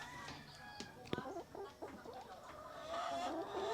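Rhode Island laying hens cluck and squawk in a poultry house, several birds calling close by in overlapping bursts with one sharper cackle.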